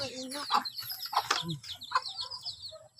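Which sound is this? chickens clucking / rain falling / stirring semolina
chickens clucking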